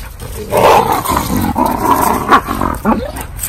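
A deep, rough growling from a dog, loud and close, rising and falling in continuous rumbling bursts with no talking.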